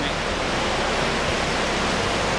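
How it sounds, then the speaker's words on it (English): A small river flows under a mini bridge on a Scottish hill walk, giving a steady, close rushing of water that stays even throughout with no other sounds. "you'll get to a mini bridge going over a river"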